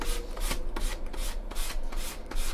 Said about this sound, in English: What I'll do is I'll wipe it off real quick where I've sanded.